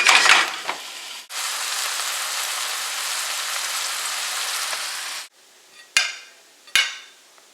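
Cattails sizzle in hot butter in a pan, a steady broadband frying hiss lasting several seconds, then a pause followed by two brief sharp pops or clatters.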